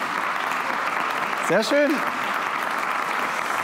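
Audience applause at an awards ceremony, steady dense clapping throughout with a short spoken remark from a man partway through.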